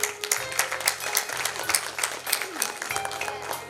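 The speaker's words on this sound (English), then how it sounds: "let's have a huge round of applause for our teachers" Audience at a school annual function applauds its teachers, steady dense clapping throughout with a low hum underneath and some crowd noise mixed in.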